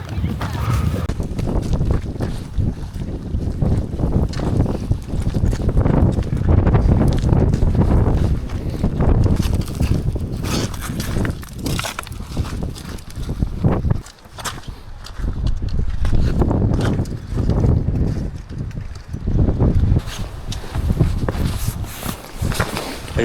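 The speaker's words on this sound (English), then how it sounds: "The wind is crazy here." Strong mountain wind near Fitz Roy in Patagonia buffets the microphone in heavy, continuous low rumbling gusts for the whole stretch, with brief lulls, while a person speaks underneath.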